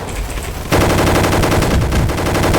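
Rapid automatic gunfire from the Roblox game Gunfight Arena, a quieter burst giving way to loud, dense continuous shooting, close and unbroken.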